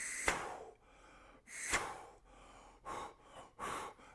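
A catching gasp in the throat while air is blown through a trumpet mouthpiece comes in short, breathy bursts, some sharp and some softer, spaced irregularly over a few seconds.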